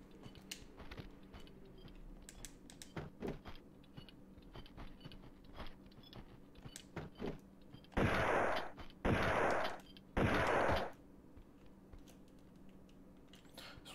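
Lara Croft's standard pistols in Tomb Raider 2 firing in three loud, noisy bursts near the end, following a stretch of quieter clicking and thudding game sounds.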